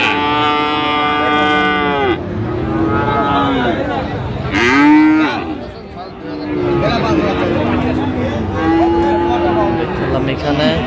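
Cattle moo repeatedly at a rural cattle market selling Friesian and crossbred bull calves, several long lowing calls near and far over a murmur of crowd chatter.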